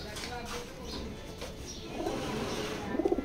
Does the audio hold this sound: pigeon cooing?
yes